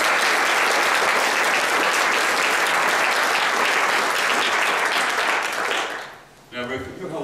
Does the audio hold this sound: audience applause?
yes